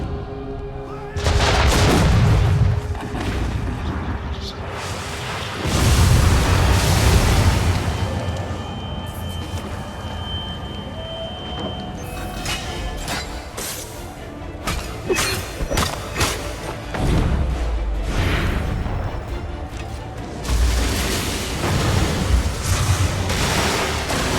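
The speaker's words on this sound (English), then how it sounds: "We're under attack! Captain's dead! Cut down by cannon shot!" Cannon blasts and gunshots from a battle in Assassin's Creed III, loud repeated booms and crackling volleys in bursts across a long stretch with dense battle noise between.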